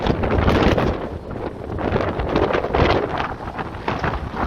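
Strong wind roars and buffets against the microphone on a ship deck in heavy, continuous gusts, with a rushing, blustery rumble and no voices.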